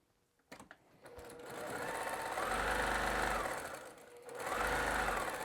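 Close sewing machine stitching fabric for a pet bed made from scraps: a rapid, even mechanical hum in two runs with a brief slowdown between, loud and near, no talking.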